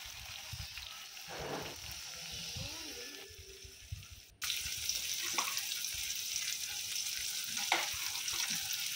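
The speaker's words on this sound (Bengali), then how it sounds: "আর পেঁয়াজকে ভালো করে তেলে কষিয়ে নিচ্ছি, তার সঙ্গে টমেটোও দিয়ে দেব।" Onions and tomatoes fry together in hot oil for a home-style Bengali rita fish curry, a steady close sizzle with occasional stirring scrapes and a brief clatter, growing louder and denser midway.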